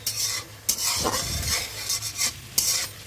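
Masala spice paste for an ilish fish curry with eggplant sizzles in a pan as a utensil scrapes and stirs it in short strokes, close and fairly quiet.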